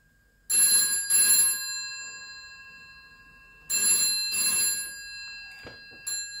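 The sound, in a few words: telephone ringing from a stage telephone line simulator after dialing zero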